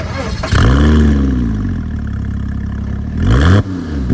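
A Porsche Cayman 987 engine roars through an aftermarket exhaust, one sharp loud rev that swells and slowly falls back, then a second quick blip near the end, close and dominant.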